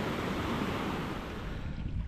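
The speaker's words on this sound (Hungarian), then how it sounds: "mindenfelől jön a víz" Water runs everywhere across a rocky mountain hiking path on Stac Pollaidh in Scotland, making a close, constant broadband rush mixed with gusting wind noise.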